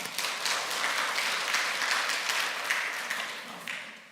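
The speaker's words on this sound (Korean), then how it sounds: "우리 한번 감사하다고 박수 한번 보내드립니다" Church congregation applauding at a Korean Sunday worship service in Baltimore, a dense steady wash of many hands clapping, moderately loud and continuous before tapering off at the end.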